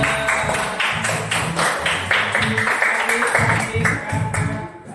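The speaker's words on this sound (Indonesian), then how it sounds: "Tepuk tangan semuanya." A classroom of students claps together during a lesson, a dense burst of hand claps sustained for several seconds, loud and close, with some voices mixed in.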